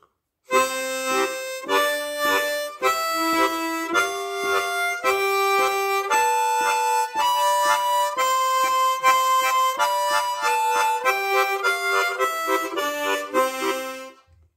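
A harmonica played with tongue-blocking, alternating blow octaves on holes 1 and 4 with four-hole chords in a steady rhythm. A continuous run of bright, reedy stacked tones changes pitch through about fourteen seconds, played alone with no talking.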